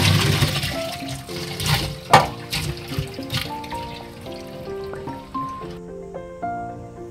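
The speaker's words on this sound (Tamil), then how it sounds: "இதை வந்து நம்ம வடிகட்டி எடுத்துக்கலாம்." Boiled cauliflower water is poured off and strained in a home kitchen, a continuous close splashing and gurgling stream that carries on for several seconds, with faint background music and no talk.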